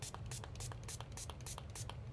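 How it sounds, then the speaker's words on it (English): Quick, soft spray bursts of alcohol onto a gauze pad repeat rapidly in a hissy rhythm, close by and quiet. "I'm going to spray alcohol on it."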